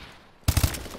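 Video game gunfire: a quiet lull, then three rapid, punchy loud shots in quick succession followed by a decaying echoing tail.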